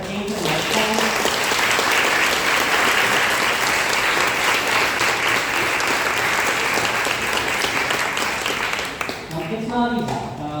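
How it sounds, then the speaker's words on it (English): Sustained applause from a community meeting audience, steady and full for about nine seconds before tapering, with a voice coming in at the end. "let's do a round of applause for the people that came to the microphone"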